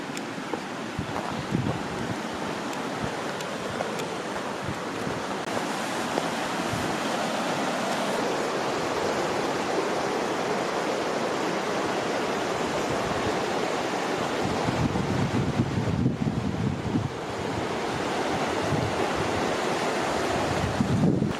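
Creek at a Southwest Colorado campsite in June, a loud, continuous rushing flow heard up close, steady throughout with slight swells and no talking.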